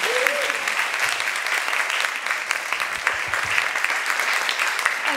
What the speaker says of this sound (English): I just want to really give a huge round of applause to John for coming all this way to speak